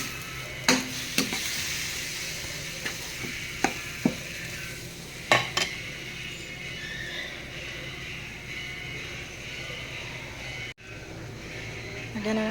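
Eel adobo frying in hot oil with a steady sizzle, broken by several sharp clacks of a utensil stirring against the pan, with faint voices in the background.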